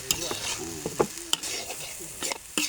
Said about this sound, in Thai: ผัดข้าวยังไงไม่ให้ติดกระทะ